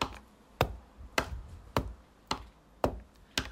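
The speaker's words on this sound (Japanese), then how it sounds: "印鑑を押す音" A personal seal stamp (inkan) pressed down again and again, giving six sharp, dry taps at a steady rhythm of roughly one every half second, close and clear against a quiet background.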